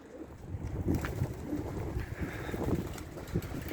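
A blue pied tumbler pigeon coos softly at close range as it enters a coop, low murmuring calls repeating over a steady rustling background.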